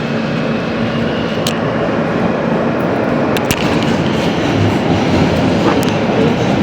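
A train rumbles past close by, a loud continuous roar of wheels and carriages with occasional sharp metallic clanks.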